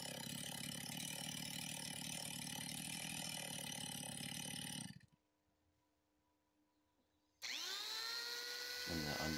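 A chainsaw carving the corners off an eagle sculpture in wood roars steadily at close range, cuts out for a couple of seconds of near-silence, then restarts and revs hard again.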